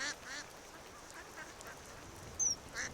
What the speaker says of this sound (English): You can hear them quacking.